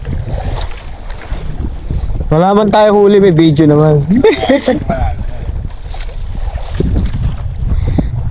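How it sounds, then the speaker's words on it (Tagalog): Strong wind buffets the microphone in a steady low rumble throughout while jigging for yellowfin tuna at Calatagan, with people talking over it and a brief burst of voices in the middle. "Lakas na ng hangin dito, no?"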